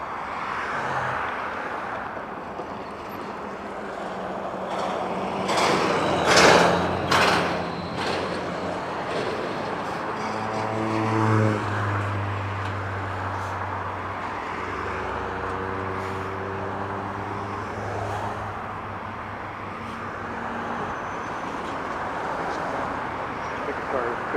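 A Boeing 737 landing at Harry Reid International Airport in Las Vegas, a steady jet roar with rising and falling engine tones under continuous radio and spoken talk.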